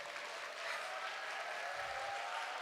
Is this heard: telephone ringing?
no